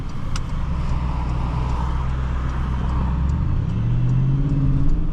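Inside a 2022 Porsche Cayenne GTS Coupe on the road, the engine gives a deep steady rumble that rises in pitch toward the end as it accelerates, loud and close with no talking.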